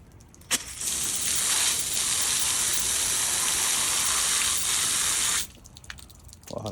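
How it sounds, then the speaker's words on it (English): A garden water hose sprays to rinse dirt off a surface, a loud, steady close-up hiss lasting about five seconds before it cuts off, with a few small knocks around it. "we're gonna try and rinse this off with the water hose"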